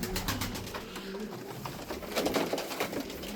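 Pigeons cooing close by, soft repeated coos layered with flock rustle and bird noise throughout.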